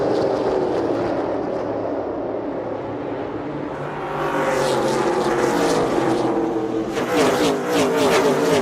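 Race cars roar away at the green flag start of an SRX race at Lucas Oil Raceway, the engine drone swelling as the field passes close and then rising again into a louder, higher pitched rush.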